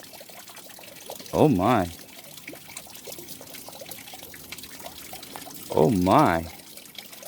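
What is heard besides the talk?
water swirling in a gold pan washing crushed quartz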